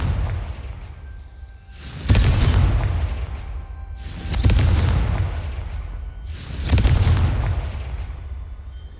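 Confringo blasting spell in Hogwarts Legacy, three heavy booming explosions spaced about two seconds apart, each a sharp loud blast followed by a long rumbling decay.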